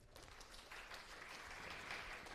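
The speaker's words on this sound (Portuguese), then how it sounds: "Palmas para o Carlos, por favor." A classroom audience applauding for a student named Carlos during a calculus lecture, brief, soft and somewhat distant clapping with no talk over it.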